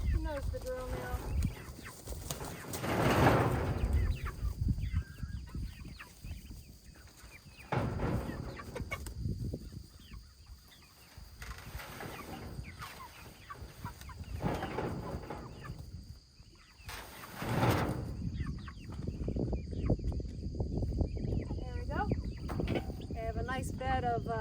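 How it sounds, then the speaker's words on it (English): Backyard chickens cluck in short, irregular bursts, fairly close, with a person talking over and between the calls amid steady outdoor background noise. "There's one chicken in there left."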